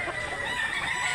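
Rooster crowing amid a busy chicken market in Mantalungon, Barili, Cebu, a single sustained crow over dense background chatter and bird noise.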